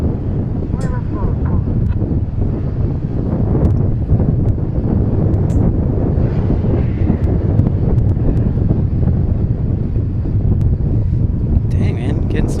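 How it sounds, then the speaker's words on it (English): Heavy, continuous wind buffeting a microphone outdoors at DFW airport, a loud rumbling roar with no breaks and faint higher clatter near the end. "Dang, man, getting some breeze."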